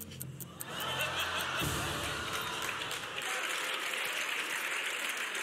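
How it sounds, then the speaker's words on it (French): Studio audience breaking into applause on a French television show, clapping swelling after a moment and holding steady, mixed with scattered laughter and chuckles, fairly distant and moderate in level. "Ils sont formidables, applaudissements"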